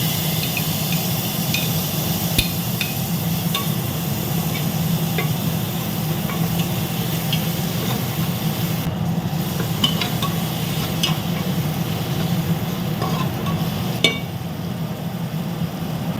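Chopped tomato is stir-fried in a pan for paneer pulav, giving a constant low sizzle with occasional sharp clinks of a spoon against the pan, and no voices.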